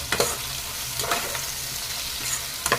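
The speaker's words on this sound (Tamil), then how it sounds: "தக்காளி நல்லா வதங்கி சாஃப்ட் ஆகணுங்க, அது வரைக்கும் நல்லா வதக்கிக்கோங்க." Tomatoes and onions sauté with salt in a pan, a steady close sizzle broken by a few quick stirring scrapes and taps, no speech.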